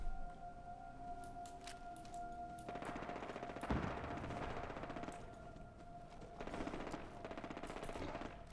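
Gunners trade automatic gunfire with a Deathclaw in Fallout 4, with rattling machine-gun bursts and scattered single shots that repeat in clusters at a moderate distance over a steady game hum.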